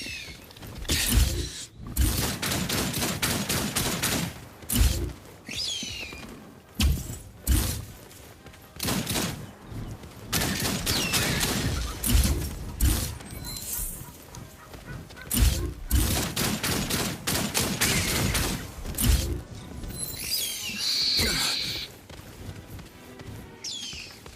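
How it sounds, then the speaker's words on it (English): Killer birds attack in Outcast with loud honking, goose-like squawks and rapid gunfire-like bursts in dense repeated volleys, pausing briefly between clusters. "And flock of killer birds, just what I need."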